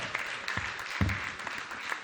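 Brief scattered clapping from a comedy club audience at Laugh Factory Chicago, fairly soft and uneven, lasting only a couple of seconds.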